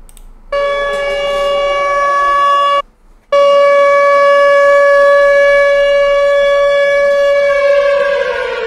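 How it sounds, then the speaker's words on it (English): A loud, sustained siren wail rings out steadily, briefly cuts off, then resumes and holds its tone, slowly sliding downward toward the end. "Do I gotta hit them sirens?"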